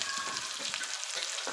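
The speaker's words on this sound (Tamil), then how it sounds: "கட் பண்ணி வச்சுருக்கிற பெரிய வெங்காயம், உருளைக்கிழங்கு," Chopped large onion and potato sauté in a pan for noodles, with a dense close sizzle throughout and a few soft stirring scrapes, with no talking.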